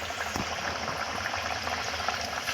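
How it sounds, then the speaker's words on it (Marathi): Wheat flour khasta puris frying in hot oil, a steady bubbling sizzle with soft crackles, close and even throughout, with no voices. "आता आपलं तेल व्यवस्थित गरम झालेलं आहे आता आपण ह्यामध्ये सोडून घेऊया"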